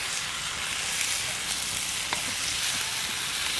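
Wood ear mushrooms fry in a pan while being stirred, giving a continuous, even sizzle with faint scraping, close and moderately quiet.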